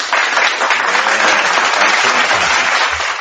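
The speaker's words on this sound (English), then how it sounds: "I'm going to give her a little applause right there" Close, loud applause from a small group, a dense even patter of clapping that holds steady for a few seconds with no voices over it.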